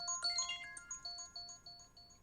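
An electronic phone ringtone plays a bright, chiming melodic pattern of repeated high notes, close and clear, with no voices.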